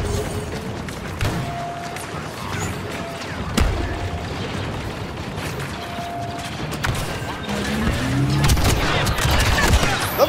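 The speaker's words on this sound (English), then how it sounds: "Yeah, grenade deployed!" Gunfire and a grenade explosion in a console video game, with scattered shots, sharp booms and mechanical clatter over a continuous noisy battle bed, fairly loud and close.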